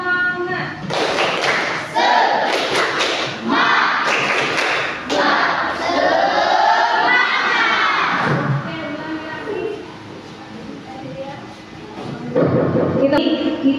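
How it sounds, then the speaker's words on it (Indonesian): A class claps a rhythmic spirit clap in a school Indonesian-language lesson: sharp, close bursts of clapping in a patterned beat, mixed with voices and group chanting. "Tepuk semangat."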